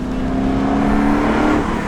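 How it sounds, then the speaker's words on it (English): A supercharged car engine revs hard, its growling exhaust note layered with a steady supercharger whine and induction noise, loud, close and continuous. "the growl, the snarl, the exhaust note, that supercharger whine, the induction noise"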